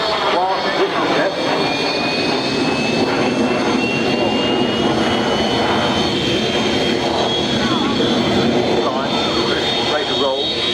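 A jet aircraft roars overhead at the 1999 Biggin Hill Air Fair, a loud continuous engine rush with a high whine, heard under a commentator talking over a public address.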